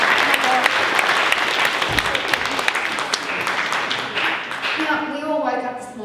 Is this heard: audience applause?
yes